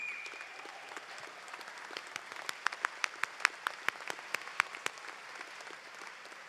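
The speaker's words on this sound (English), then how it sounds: "we also heard, as we have here, the awesome response of the crowd cheering in support" Applause from an audience at a 2017 high school graduation ceremony, steady clapping building from faint to a denser stretch of sharp individual claps in the middle before thinning out, heard at a moderate distance.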